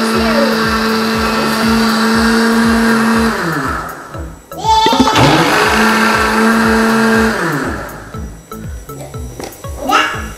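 A blender mixes a Pop Ice drink with ice, a loud whirring motor that winds down, restarts with a rising rev, then slows again, while people talk briefly.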